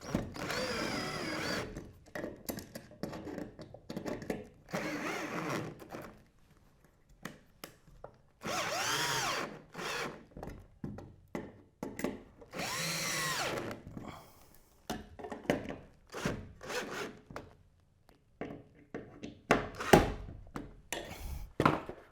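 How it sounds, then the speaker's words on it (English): Power drill driving lag screws tight through a metal bracket for a UFO LED high bay light fixture, heard in repeated whirring bursts of a few seconds each, separated by short pauses and occasional thunks. "And finish tightening up those lag screws"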